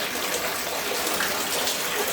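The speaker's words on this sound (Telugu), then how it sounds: "ఇవన్నీ ఎత్తుకోవాలన్నమాట వాటర్ అన్నీ బయటికి ఎత్తుకోవాలి ఇప్పుడు" Water rushes and splashes in a steady, loud gush as it is bailed out of a rain-flooded house, with no pauses, close by.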